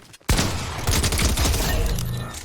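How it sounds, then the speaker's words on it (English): Rapid Fortnite gunfire: a sharp Sharp Tooth shotgun blast followed by a fast, continuous burst of Combat SMG shots, loud and close with no talking. "we're going to do a chest shot with a sharp tooth and then finish with the combat SMG"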